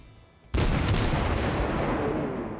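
A single heavy naval gun salvo fired in the World of Warships video game, a sudden loud blast rolling into a long, dense rumble that slowly fades.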